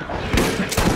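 Shotgun blasts in the video game Borderlands, two heavy close booms about half a second apart over dense combat noise.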